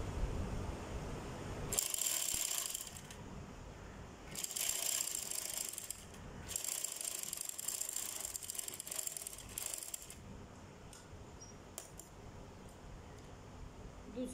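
Sewing machine stitching a scarf, close rapid mechanical whirring in several bursts of a second or two each, with short pauses and faint clicks between them.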